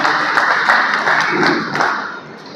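Audience applause welcoming Dr. Kabir Prabhu at a hospital gathering with nurses and staff, a dense steady patter of many hands clapping at close range that fades slightly toward the end.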